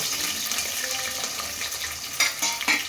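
Onions with a few green chillies fry in a pan for a Sunday mutton curry, a moderate steady sizzle with a couple of sharper stirring scrapes toward the end.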